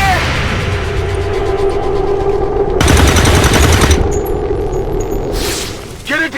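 Sustained automatic gunfire in the turn-based tactics game XCOM 2, loud rattling bursts layered with booms and impacts, with a voice shouting over the shooting.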